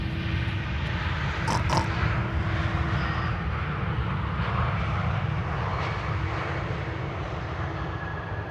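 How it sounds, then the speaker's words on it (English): An Airbus A321neo airliner arriving at Amsterdam Schiphol from Istanbul gives a steady, fairly quiet jet engine rumble and hiss lasting several seconds, distant and alone with no talk. "an A321neo arriving from Istanbul, Turkey, flight 1251"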